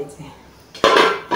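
A lid set on a new wok, a quiet handling rustle followed by a bright metallic clank that rings briefly, close by.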